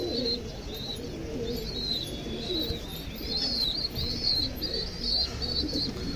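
Pigeons coo softly and repeatedly, with light chirps and a steady murmur of background noise.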